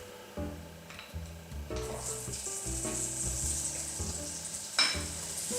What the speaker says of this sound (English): And then you can put the garlic, the spring onion and ginger first.